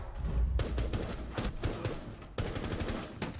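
Video game gunfire comes in loud, rapid bursts of sharp shots, with brief gaps between volleys and a sudden new burst near the end.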